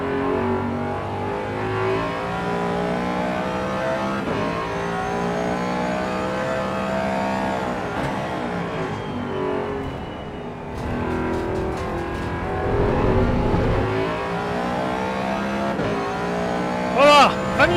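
Race car engines in the Assetto Corsa EVO sim racing game, in a race against AI opponents: a loud, continuous high-revving engine drone rises and falls through gear changes, with bursts of tyre noise and a brief squeal near the end.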